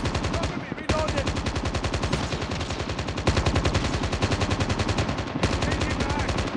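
Rapid automatic gunfire from the video game Call of Duty rattles in long, dense bursts with only brief gaps, loud and close throughout a multiplayer match.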